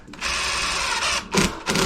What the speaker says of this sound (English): Gotta put a couple more screws in it